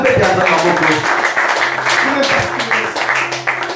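A church congregation applauds at length, a dense, steady wash of clapping close around the listener, with voices and music mixed in underneath.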